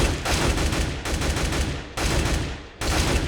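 Tap-fired rifle shots in Counter-Strike: Global Offensive, four loud, close single shots at a steady interval of roughly one second, each followed by a short rolling tail, no talk.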